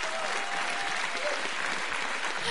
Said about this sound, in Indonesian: Tepuk tangan dong buat Pak Parto